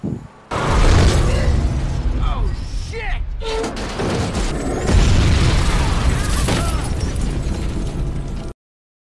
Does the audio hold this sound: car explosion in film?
yes